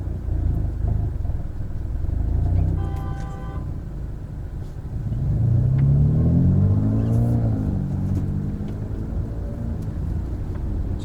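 Hyundai Veloster N engine blipping its throttle to rev-match during a manual gear shift, heard over a steady low drive rumble as one rising-and-falling rev swell midway through.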